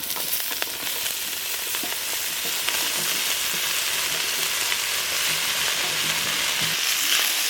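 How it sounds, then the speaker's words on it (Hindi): Chopped potato and fenugreek hit a pan of frying onion and green chili, sending up a loud, steady sizzle with faint scraping and crackles throughout. "और यहीं पे हम डाल देते हैं आलू मेथी कटा हुआ।"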